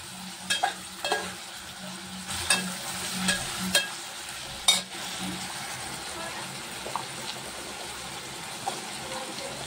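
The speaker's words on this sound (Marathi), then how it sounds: "टमाटा पण घातल्याने आणि आता व्यवस्थित आपण परतून घेऊया।" Tomatoes sautéing in a pan, a low continuous sizzle with intermittent spoon scrapes and taps, close and moderately quiet.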